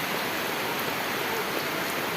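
A dense, steady wash of heavy rain, continuous and loud with no pauses.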